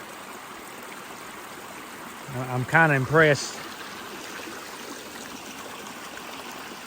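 Rainwater runs off a hill after the first big storm following a pond-bottom excavation, a steady broadband rushing trickle, with someone speaking briefly partway through.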